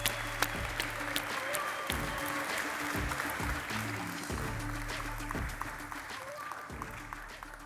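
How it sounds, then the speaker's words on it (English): An audience claps for a speaker introduced at a React web development conference, a sustained, even burst of applause with crisp individual claps filling the room. "Let's give him a round of applause."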